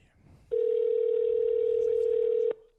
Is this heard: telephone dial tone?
yes